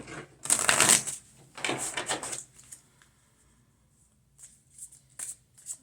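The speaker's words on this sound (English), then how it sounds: "Give it a good shuffle. Move that energy around." A deck of oracle cards being shuffled by hand close up, with two long bursts of rapid riffling followed by softer, shorter flicks and taps, and no talk.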